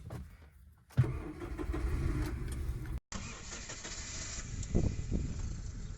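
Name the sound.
car engine self-starter cranking and starting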